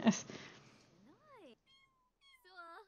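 A cat meows a few times in The Sims 4, one drawn-out rising and falling meow followed by shorter mews, after a brief burst of noise at the start.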